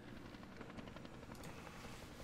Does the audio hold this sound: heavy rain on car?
no